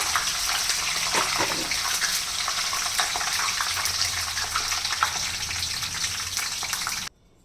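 Fresh coriander leaves fry in hot oil in a pan, a dense steady sizzle and crackle close up that runs unbroken for about seven seconds, then cuts off abruptly.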